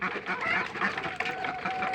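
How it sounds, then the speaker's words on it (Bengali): Ducks walking off toward a village pond give a close, steady stream of quacking and honking calls that runs without pause through the whole moment. "এই যে হাঁসগুলো চলে যাচ্ছে পুকুরে।"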